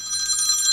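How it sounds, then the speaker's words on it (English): A phone rings during a computer wargame session, a brief, bright electronic bell-like ring held steadily for under a second, close and clear with no talking over it. "What's happening with my phone here?"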